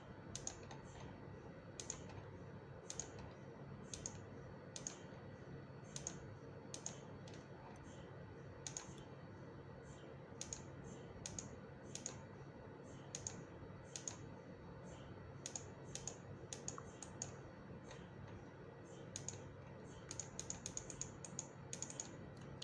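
A computer mouse clicks at a CT scan processing workstation as ureters are traced. The clicks are soft and come in quick clusters and single taps over a steady machine hum.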